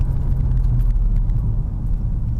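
A BMW E60 5 Series accelerates from a start in a steady, close low engine rumble that holds at an even loudness, with no distinct gear shift standing out.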